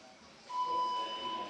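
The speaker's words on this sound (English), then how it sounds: "the buzzer is the 1 minute warning" A steady electronic tone sounds at a climbing competition as the one-minute warning, starting partway through and holding over ambient crowd and hall noise.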